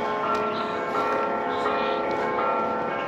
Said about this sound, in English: since it's Sunday, you can hear the church bells down below